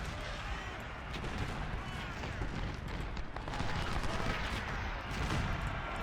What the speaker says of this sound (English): Cannons first, as always, because they're slow.